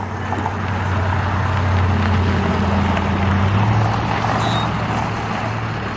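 A truck hauling imported Japanese cars idles and rumbles nearby, its loud steady engine drone holding throughout, with no one talking.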